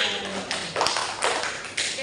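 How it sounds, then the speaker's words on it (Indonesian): A small group claps in a classroom during a group counselling session, several short bursts of hand claps close by with a voice talking underneath. "Ya, tepuk tangan dulu"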